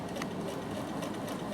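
A Bernina sewing machine top stitching a folded fabric binding, running as a steady, even mechanical whir at close range with no pauses.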